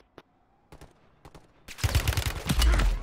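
Call of Duty gunfire: a few faint clicks and thuds, then a loud, dense burst of rapid shots and blasts filling the second half, continuing steadily to the end.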